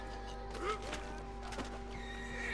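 A horse in Red Dead Redemption 2 gives a short whinny over steady game background hum, fairly faint, with a few soft thuds and hints of talk around it.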